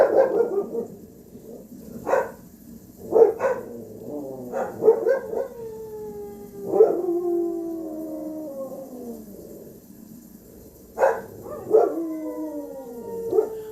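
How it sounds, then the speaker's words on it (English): Several dogs howl together in response to coyotes, sliding wails overlapping in a chorus with occasional barks and yips, fairly loud and close, with no talk over them. "Okay, so I've got your dog singing."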